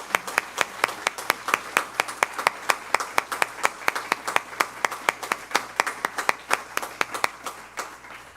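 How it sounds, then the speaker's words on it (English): Standing applause for the graduating seniors at a high school honors banquet comes as slow, rhythmic, evenly spaced clapping, loud and clear, with little else over it. "Class of 2021, if you would please stand for one last applause."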